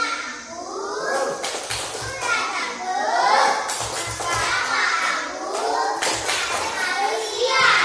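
Schoolchildren in an Indonesian classroom chant together and clap in a rhythmic class routine led by the class leader, with bursts of claps repeating under a steady chorus of young voices.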